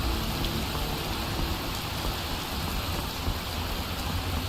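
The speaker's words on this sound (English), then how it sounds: "It's bloody raining." Steady rain in Skyrim, a dense constant hiss of falling water with low rumbling underneath, even and unbroken throughout with no talk.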